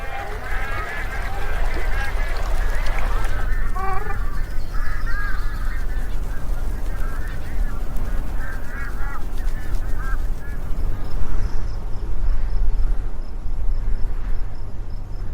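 Bar-headed geese honk in a flurry of calls in the opening seconds against steady wind-like rumble, then the honking thins to a few scattered calls as the noise carries on.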